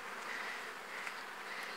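A honeybee colony in a five-box hive gives off a steady, faint, even buzz with no breaks and no voices.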